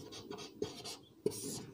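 Chalk or marker strokes scratch across a board during a maths lecture, a few short, soft scraping bursts with brief taps between them, faint and with no talking.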